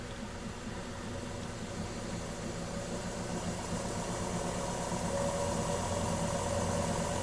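An electric motor on a test bench runs and gradually speeds up, giving a steady hum with a faint whine that rises slightly in pitch over several seconds, close and continuous with no talking.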